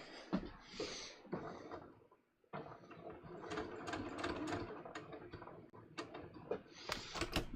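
A domestic sewing machine stitches along the edge of a welt pocket in fabric, running in bursts with a steady mechanical rattle, pausing briefly before a longer continuous run, close and moderately loud.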